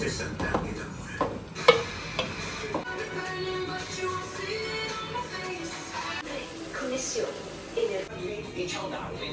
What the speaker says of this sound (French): Et maintenant, carottes, céleri et oignons. Et on laisse revenir le tout.